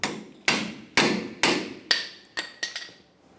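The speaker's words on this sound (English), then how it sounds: "Ours are stuck in the bracket. Just knock them out of there." Seven sharp metallic hammer blows knock stuck brake pads out of the caliper bracket on a 1999-2006 Chevrolet Silverado 1500, loud and close, evenly spaced at first, then quicker, lighter taps at the end.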